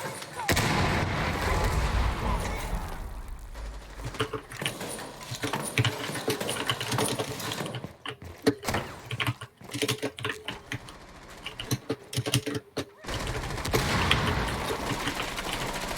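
Rapid gunfire crackles through a Rainbow Six Siege esports match, dense bursts and scattered shots over game sounds, with commentators talking underneath.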